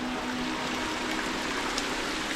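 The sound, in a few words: natural waterfall flowing on Brahmagiri mountain trek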